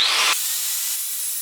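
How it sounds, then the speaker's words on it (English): A grade 8 steel bolt being cut off with a power tool, a harsh high grinding hiss that drops to a lighter abrasive whir after a fraction of a second. "We're just going to go ahead and chop this off."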